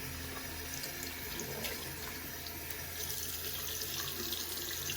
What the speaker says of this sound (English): The water running from it isn't necessarily that clear.